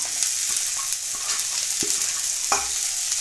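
Split lentils fried in oil with onions in a pan for avarebele saaru: a steady loud sizzle, broken by several sharp scrapes and clinks as a spatula stirs against the pan.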